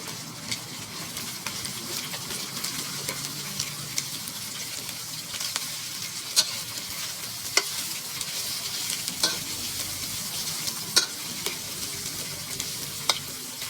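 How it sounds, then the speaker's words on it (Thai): Tom yum roasted chili paste stir-fried in a pan gives a continuous close sizzle, punctuated by sharp, irregular spatula taps and scrapes throughout. "ใส่พริกเผาต้มยำลงไป ผัดให้หอม"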